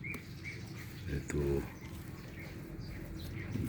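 Small fallen baby birds chirp in high, thin peeps at close range, moved near a spot where their mother might find them, while someone talks over them in Filipino.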